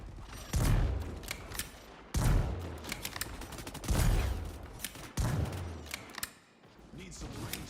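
Heavy sniper-style shots from the video game Marvel Rivals fire in a steady rhythm, four loud booming reports roughly a second and a half apart, each trailing into a rattling tail under game ambience.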